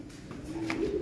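Young racing pigeons give a soft, low coo close by, a single short throaty call lasting about a second.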